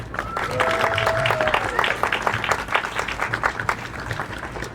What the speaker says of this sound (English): Can you give a round of applause for Sebastian?